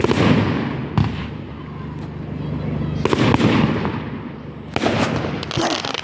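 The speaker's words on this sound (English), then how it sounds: "Tell the fireworks to shush then." Fireworks and firecrackers bursting at an outdoor display in Saltford, with sharp bangs near 1, 3 and 5 seconds over a steady crackle and murmur of people nearby.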